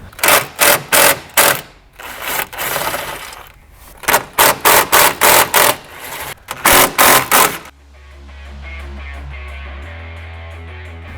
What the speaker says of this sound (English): we're going to undo these 3 10mm bolts and this 1 10mm bolt on the top side